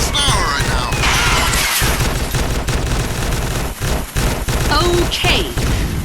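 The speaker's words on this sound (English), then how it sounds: "Let me shoot out his tires." Rapid gunfire in a video game, aimed at shooting out car tires during a high-speed chase, as a dense continuous volley over roaring engine and road noise, with people talking over it.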